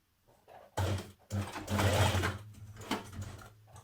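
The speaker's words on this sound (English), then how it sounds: "pop that under your machine, again without pulling because we are using jersey. A few stitches to get you going" A domestic sewing machine stitches jersey fabric up close in short bursts, a rapid mechanical whirr that starts, pauses briefly and runs on for a couple of seconds before trailing off, no talking.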